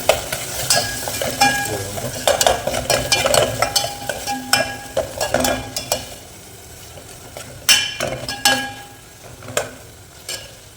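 Onions with green chillies frying in a pan for coconut pulao, a steady crackling sizzle with frequent stirring clatter of a spoon against the pan, close and fairly loud throughout with no talking.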